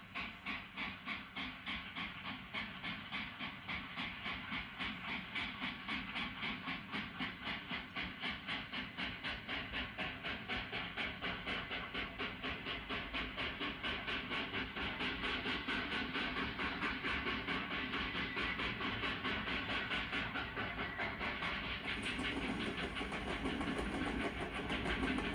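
A passenger train bound for Springfield, Columbus and Cleveland on the Big 4 New York Central line pulls out, a steady loud rumble with rhythmic clickety-clack of wheels on rail joints throughout.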